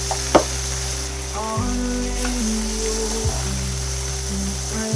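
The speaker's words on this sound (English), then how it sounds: "Then you just want to lightly sear them." Pork chops sear lightly in a pan for honey garlic pork chops, producing a steady low hiss of frying beneath sustained background music, with one brief knock near the start.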